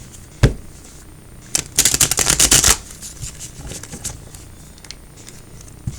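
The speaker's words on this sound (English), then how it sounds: "It drives me crazy when I shuffle my cards and they get all bent up." Tarot cards being shuffled at close range: a sharp tap, then a dense riffling burst of papery flicks lasting about a second, followed by faint quiet handling.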